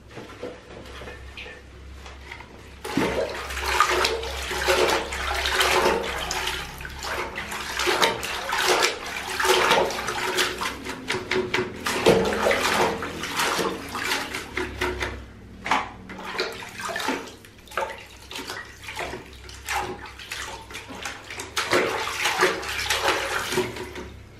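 Water runs and splashes continuously close by during washing, with irregular sloshing bursts and clatter throughout, starting quieter and growing busier after a few seconds.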